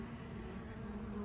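Honey bees buzz around a small hive in a bee yard, a steady close droning hum filling the whole moment with no voices.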